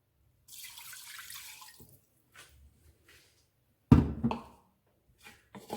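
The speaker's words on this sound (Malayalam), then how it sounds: "വെള്ളം ഒഴിച്ചു കൊടുക്കുന്നുണ്ട്." Water poured into a pan holding roasted dal for parippu pradhaman: a soft stream early on, then a sudden loud splash and sizzle that fades, with brief small sloshes after.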